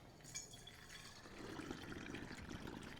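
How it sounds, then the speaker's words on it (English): Brown butter fat-washed bourbon is poured back into its bottle, a quiet trickling stream that thickens into a steadier gurgle partway through, soft and close. "I'm just going to pour it back into the bottle"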